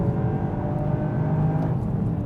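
Hot hatch engine with automatic rev-matching blips on downshifts from an intelligent manual transmission, heard as a steady, droning engine note that holds fairly even throughout, close and continuous with no talking.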